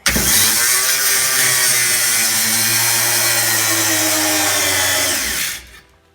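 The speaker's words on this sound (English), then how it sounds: "So the grinder was able to cut all the way in there." An angle grinder cuts through the leaf spring area of a 2001 Ram 2500 with a loud, sustained high whine and harsh metal-cutting roar that runs steadily for about five seconds before spinning down and fading out.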